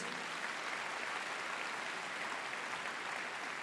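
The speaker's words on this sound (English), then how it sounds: "Please give her a round of applause." An audience applauds steadily and evenly at a medical detection dog display, a dense, uniform wash of many hands clapping with no voices over it.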